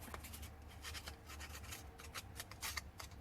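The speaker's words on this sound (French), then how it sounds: "Donc, avec les ciseaux, hein, toujours pareil. On gratte." Scissor blades scrape across the surface of a photo to distress it for a vintage card, a quiet series of short, rapid scratching strokes with no talking.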